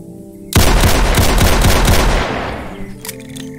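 Loud, rapid automatic gunfire from a survival shooter game erupts abruptly, a dense volley of close shots lasting under two seconds, then trailing off into reverberant decay and a few fainter sounds.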